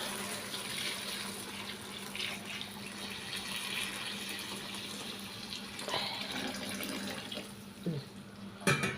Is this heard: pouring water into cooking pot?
yes